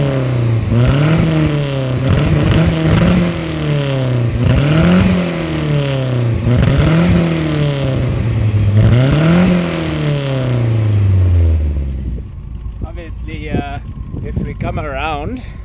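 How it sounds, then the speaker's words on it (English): A Nissan 1400 bakkie with a new exhaust revs in four rising and falling bursts, loud and close, then quickly fades away as it drives off, leaving quieter background sound. "let's get into some revs and drive-bys."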